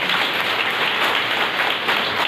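An audience at a school awards ceremony for SSC students claps together in a dense, even burst of applause that holds steady for a couple of seconds, with no speech over it.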